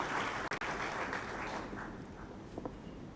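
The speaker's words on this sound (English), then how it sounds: "Please a round of applause for him as he comes on." Brief applause from an audience at a regional cocoa research symposium, a dense patter of clapping that fades out after a few seconds.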